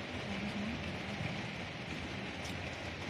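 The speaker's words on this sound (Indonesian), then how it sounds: "Tuh, lagi hujan." Steady rain falls outdoors in Jakarta, a dense, even hiss of drops on surfaces that holds at one level throughout, with a faint low rumble beneath and no voices.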